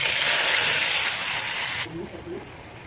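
Onion and tomato paste hit hot oil seasoned with bay leaf, cumin and dried chilli, giving a loud, bright hiss that cuts off abruptly after about two seconds, leaving quieter sputtering beneath.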